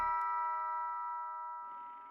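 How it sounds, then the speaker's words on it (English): A single bell strikes once and rings out with a long, fading tonal decay, heard alone and fairly soft as if at a distance. "the distant tolling of a church bell"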